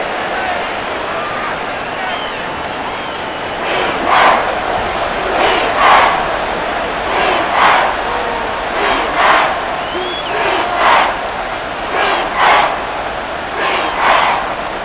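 Stadium crowd in the Madden NFL 24 football game, Miami Dolphins versus Washington Commanders, swells in a rhythmic chant of roughly eight loud bursts under steady crowd noise, with commentary voices over it.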